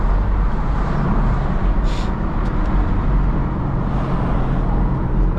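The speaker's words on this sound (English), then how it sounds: "that car is loud as hell" A loud car engine roars steadily from inside the vehicle as it drives through rain in Atlanta, with continuous road and tire noise and no pauses.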